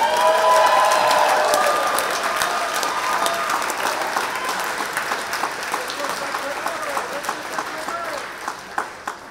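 Applause at a Captains Cup dinner for Amanda and Mateo, Pan American Games athletes: a roomful of steady clapping that starts full and close, then thins gradually into scattered individual claps by the end.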